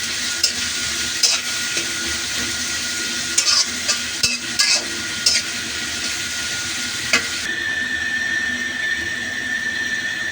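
Onions fry in hot oil with a steady, loud sizzle while a utensil stirs and scrapes through them in several sharp clicks, continuous across the whole stretch with no voices.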